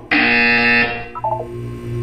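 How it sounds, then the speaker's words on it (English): A loud electronic buzzer in the video game Portal 2 sounds one harsh, steady blast of just under a second and then cuts off, followed by a short, softer electronic chime. "When you hear the buzzer, look down at the floor."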